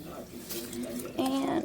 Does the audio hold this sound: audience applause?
no